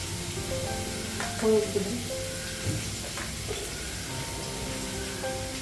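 Potatoes frying in a pan with spices added, a steady loud sizzle with occasional stirring scrapes, and faint bits of speech under the frying.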